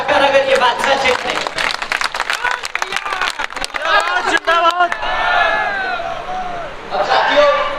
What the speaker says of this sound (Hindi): बता दो ताली बजाकर अगर ये बात सच है।